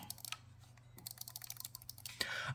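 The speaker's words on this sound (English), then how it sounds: "I like pressing this a lot. It's a good click" Buttons on a Razer Wolverine V2 Pro controller clicked repeatedly up close, a quiet run of sharp, rapid taps.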